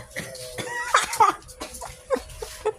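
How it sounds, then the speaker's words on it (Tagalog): A few short coughs, close by, with scattered faint noises between them. "Nag-voice over yung ubo."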